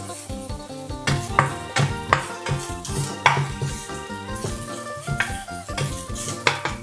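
Sliced ginger is stir-fried in a pan for a tilapia and celery dish, with a soft sizzle under repeated metallic scrapes and clanks of a utensil against the pan in an uneven rhythm.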